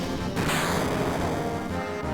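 A Final Fantasy VII ice spell bursts in a booming explosion, a loud, dense crash with rumbling low end and a bright shattering onset, sustained for about two seconds without voices.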